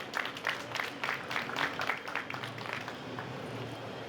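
Applause from a pitch-day audience, a faint, steady patter of many hands clapping from a distance, holding at an even level throughout.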